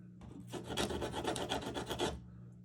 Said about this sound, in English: this seed I'm able to grab. And I just sand it down a little bit.